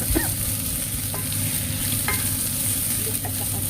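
Leeks and onion sauté in hot oil with a steady, loud sizzle that never lets up, broken by a few scrapes and knocks from stirring, with no talking.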